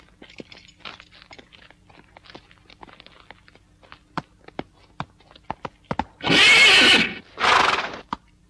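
Sparse hoof clops and crunching steps on hard ground, then a horse lets out two loud, drawn-out neighs close by.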